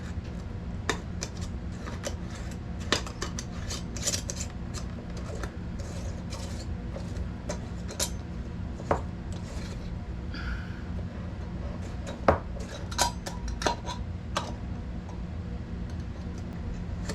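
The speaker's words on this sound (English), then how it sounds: "Now we're gonna go ahead and put the screw caps on." Metal screw bands are turned onto glass canning jars, giving scattered small ticks and clinks at close range over a steady low background hum.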